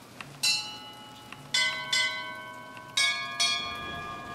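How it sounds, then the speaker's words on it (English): Bells in Bioshock Infinite ring four times, each clear metallic strike decaying in a long shimmering tone, spaced irregularly over soft background noise. "These bells."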